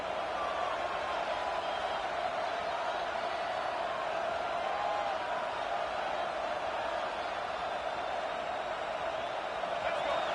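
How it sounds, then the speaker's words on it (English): A large video game stadium crowd at a college football game in College Football 26 roars steadily and loudly throughout, a dense wall of cheering and noise with no pauses. "This crowd bringing the energy and noise early."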